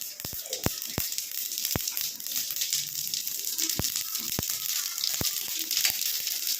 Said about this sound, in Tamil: எண்ணெய் காஞ்சிச்சுங்க. இப்போ கடுகு போட்டுக்கோங்க.